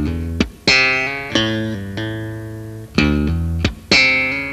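A bass guitar exercise of thumb slaps, plucks and hammer-ons: a close, loud phrase of percussive slapped attacks, each followed by quick hammered notes ringing out, repeated twice with a steady rhythm.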